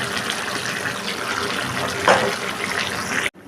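Running water splashes close by in a kitchen as a mixer jar is rinsed and the water is poured into a simmering papaya and potato curry, a steady gush with a brief louder splash before it cuts off.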